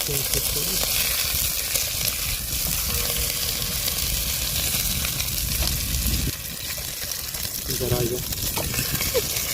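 Steady, loud sizzling of beef steak frying in a hot pan, a continuous crackle with voices talking faintly in the background.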